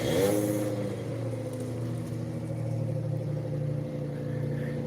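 A car engine revs briefly and then settles into a steady idle close by, with no talk over it, as the car gets ready to pull away on a road in The Gambia.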